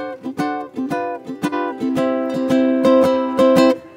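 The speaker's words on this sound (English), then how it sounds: "I started out playing a lot of traditional Hawaiian music, which sounds like this." A ukulele plays traditional Hawaiian music, bright plucked chords and single notes in a lilting rhythm, close and clear with no voices.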